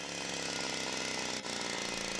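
A chainsaw running steadily at high revs during forestry work, loud and continuous with a brief dip partway through.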